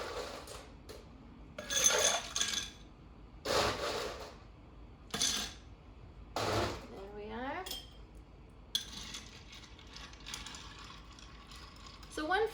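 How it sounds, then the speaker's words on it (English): Ice stirred in a Negroni of gin and Campari, giving a few loud clinking, rattling bursts of ice against the glass, interspersed with quieter stretches and talk. "Now we're just gonna add ice and stir."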